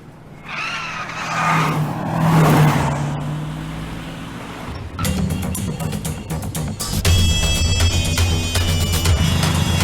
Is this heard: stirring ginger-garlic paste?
no